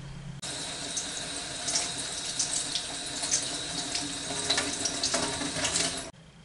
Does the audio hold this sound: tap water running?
yes